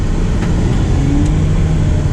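Ferrari 812 Superfast engine running as a steady low rumble with a brief rising whir, heard from inside the cabin, continuous and fairly loud throughout.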